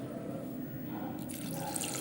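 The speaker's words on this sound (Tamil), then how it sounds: "இப்போ இதில் தண்ணி ஊற்றி" Water runs from a tap onto lentils mixed with tamarind, asafoetida and half a spoon of turmeric in a home kitchen, a steady close trickle and drip lasting a couple of seconds with no talking.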